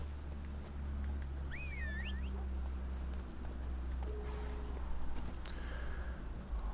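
Horse hooves gallop in a steady run in The Witcher 3 video game, set under continuous game ambience with a few whistling tones and other faint effects.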